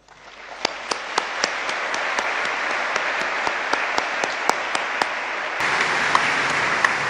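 Applause for scholarship recipients at a ministerial youth ceremony swells from a thin start into sustained crowd clapping, with sharp individual claps popping out and a slight lift in level near the end.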